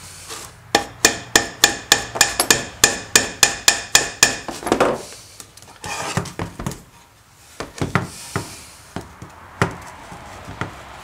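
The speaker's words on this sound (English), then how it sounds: "Let me get a soft hammer." A soft hammer taps repeatedly on a mechanical part during a motorcycle repair, a steady run of about sixteen evenly spaced knocks, then a pause and scattered lighter taps and handling noises.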